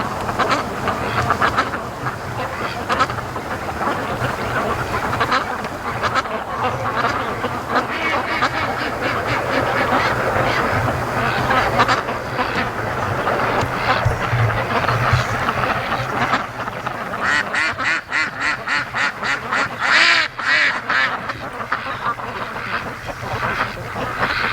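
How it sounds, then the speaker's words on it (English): Free-range ducks on a lake quack in loud, rapid, overlapping bursts, with a dense run of calls near the end and wind noise underneath. "They were just going crazy quacking."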